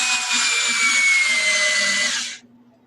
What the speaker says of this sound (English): now I'm going to drill a hole down inside of it.